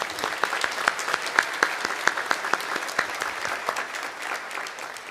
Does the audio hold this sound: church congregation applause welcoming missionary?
yes